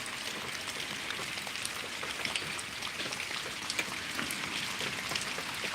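Heavy rain falls steadily outdoors at night, a dense continuous hiss with scattered drops pattering on nearby surfaces, with no voices.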